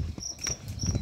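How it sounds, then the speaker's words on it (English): Faint, high-pitched cricket chirps pulse intermittently over low background rustling and soft thumps, with no voices. "Lovely crickets singing their song"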